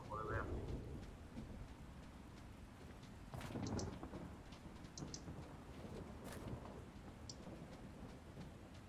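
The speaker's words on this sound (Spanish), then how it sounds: "Me mata la lluvia. No veo un carajo con el agua así." Faint steady rain with low rumbles of thunder rolling in the background, a couple of heavier swells along the way, in the video game Ring of Elysium.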